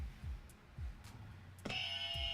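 A game show buzzer sounds once with a sustained electronic tone after a stretch of quiet thumping, fairly faint and alone.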